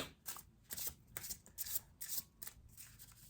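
Tarot cards shuffled by hand, a quick run of crisp riffling bursts about every half second, close and fairly quiet with no talking.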